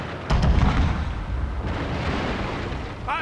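Cannons fire in Shogun 2: Fall of the Samurai: one heavy, close blast opens the moment, followed by rolling rumble and scattered distant booms, with almost no talk.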